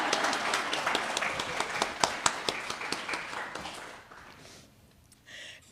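Audience at an award ceremony clapping for a human rights advocate receiving a courage award, a dense burst of many hands fading out after about four seconds into near quiet.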